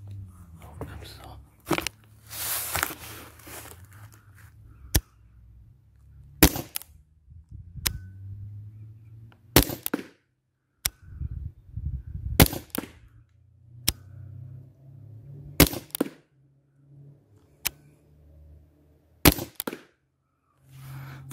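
An HDR 50 air pistol fitted with a one-metre barrel fires about ten sharp, close cracks at irregular intervals, with someone talking softly between the shots.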